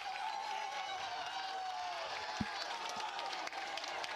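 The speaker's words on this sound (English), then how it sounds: "Crowd getting into it for Berwick" A baseball crowd at a Berwick Panthers game cheers and claps for Berwick, a steady distant wash of applause and voices with a whistle and a couple of sharp thumps.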